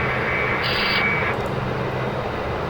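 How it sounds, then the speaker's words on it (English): Engine number 1 of a Dash 8 Q400 turboprop spools up during start in a flight simulator, a steady loud whine and roar with a brief higher-pitched tone partway through, no voices. "we have actually started engine number 1"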